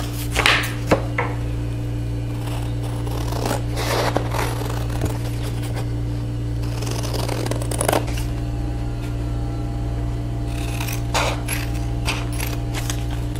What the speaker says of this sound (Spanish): Y ahora lo que van a hacer el paso siguiente es cortar.